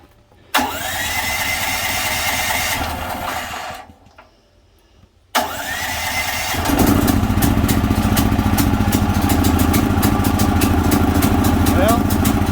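A DuoMax portable generator converted to run on propane, with its choke on, cranks and catches, runs briefly, cuts out, then restarts and settles into a loud, steady engine drone.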